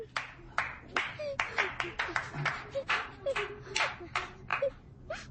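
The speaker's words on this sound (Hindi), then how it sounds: "वाह, तालियां हो जाएं।" A few people clap in an irregular, close-up patter after a child's song, the sharp individual claps spaced unevenly, while voices murmur faintly beneath.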